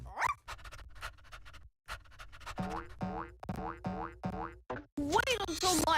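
Cartoonish dog sound effect from a board video game, a springy boing followed by a run of short yips and barks, then a whimpering whine, loud and close with no talk over it.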